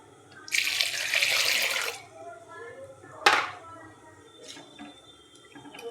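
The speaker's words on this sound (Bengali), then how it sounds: "নুন দিয়ে ঘেঁটে এবার জলটা দিয়ে দেব" Water from a tap pours for about a second and a half into mung dal in a pot, close by, followed by a sharp clatter and a few faint knocks.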